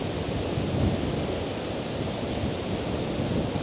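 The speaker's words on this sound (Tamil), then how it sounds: "நான் பேசுறது எதுவும் கேட்காதுன்னு நினைக்கிறேன் இந்த வாட்டர் ஃபால்ஸ் சத்தத்தில்." A waterfall on a badlands ride route roars steadily and loudly up close, a dense unbroken wash of rushing water with no voices over it.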